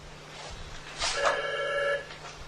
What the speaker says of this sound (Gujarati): એમાં ફોન આવ્યો